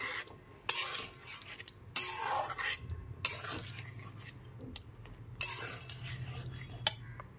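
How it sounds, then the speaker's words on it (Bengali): Pointed gourd sautéed with spices in a pan over a low-to-medium gas flame, with repeated scraping stirs of a utensil against the pan and sharp clinks at intervals over a faint sizzle. "বেশ কিছুক্ষণ সময় ধরে মশলার সাথে পটলটাকে খুব ভালো মতো কষিয়ে নিচ্ছি"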